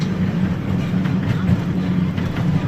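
A small ride-on train rolls steadily through a garden park, a continuous low rumble with faint rhythmic clicks of the wheels on track, close by.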